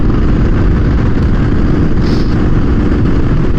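A Triumph motorcycle runs on a test ride with a freshly fitted final drive chain tensioner, its engine a loud, constant low rumble blended with heavy wind and road noise throughout.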